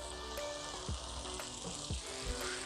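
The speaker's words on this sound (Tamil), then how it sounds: "போட்டு நல்லா இப்படி கலக்கி விட்டுக்கலாம்." Meal maker chunks being stirred with masala in a hot pan for meal maker biryani, a steady dense sizzle with a few scraping strokes of the spoon, close and continuous with no talking.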